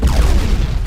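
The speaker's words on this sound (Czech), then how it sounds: "Hodíme tím tam granát." A grenade explodes in the video game Battlefield Heroes, giving a short, loud, booming blast with a rumbling low tail.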